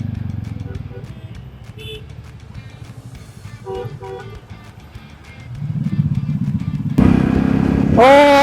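Motorcycle with a modified exhaust, set up as a tourer, riding a broken road near Sarjapur; a steady engine drone under voices, swelling louder toward the end.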